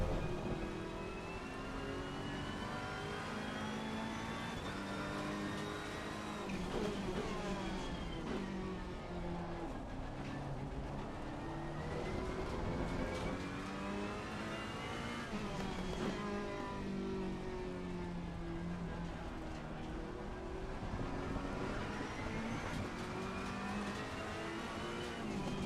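Ferrari race cars scream around the Hungaroring in Assetto Corsa Competizione, high engine notes rising and falling through gear shifts and braking, loud and continuous with several cars close together.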